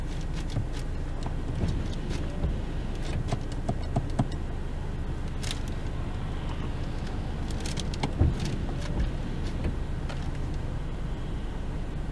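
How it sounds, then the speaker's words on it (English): A 2013 Honda Fit Base with rear drum brakes drives at night, its engine droning steadily inside the cabin along with road rumble and faint clicks and rattles, with no talking. "I think you definitely hear engine more than anything, which is kind of rare for a Honda."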